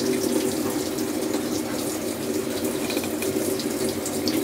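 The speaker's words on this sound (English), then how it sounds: "And it's filling with water." A Panda PAN50SW portable automatic washing machine tub fills with water from the inlet, a steady, loud, continuous rushing stream heard close up without speech.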